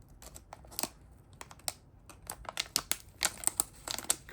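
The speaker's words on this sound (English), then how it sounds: "It's sealed, so we will attempt to cut the seal." Sharp plastic seal on a package for a Flipper-Zero board being snipped with scissors, a rapid irregular series of crisp clicks and crinkles close up, no speech.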